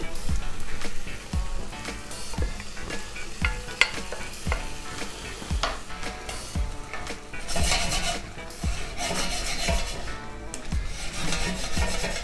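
Lentils tipped into a hot pan over medium-low heat for a Middle Eastern dal, then stirred and scraped, giving a steady sizzle with repeated rasping spoon strokes against the pan at close range.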